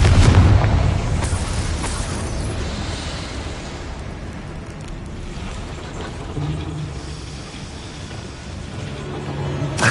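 A Confringo blasting spell bursts in Hogwarts Legacy with a loud, close boom at the start, then a long rumbling tail slowly fading beneath ambient game sound.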